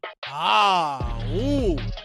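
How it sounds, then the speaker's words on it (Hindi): A voice actor performs a long, drawn-out yawn for a character in a Hindi children's audio story. It starts with a sharp intake of breath, then a rising and falling groaning tone, close and clear, with no other talk. "और जैसे ही उसने जम्हाई ली,"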